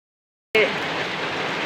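Heavy summer rain pours down steadily after a brief silence, a close, dense hiss that starts abruptly and continues evenly to the end.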